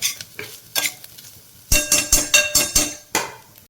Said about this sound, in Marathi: त्याला चांगलं तुपामध्ये भाजून घ्यायचं.